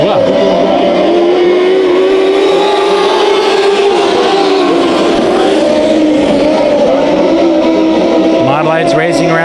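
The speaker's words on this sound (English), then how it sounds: "Lights racing around turns number 1 and 2 on lap number 1." Race cars at Bakersfield Speedway in a heat race, a loud continuous drone of several engines rising and falling as the pack runs through the turns, with an announcer talking over them throughout.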